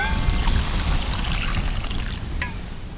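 Water poured into a simmering fish curry in a home kitchen, a loud, close, continuous splashing gush that eases off slightly toward the end.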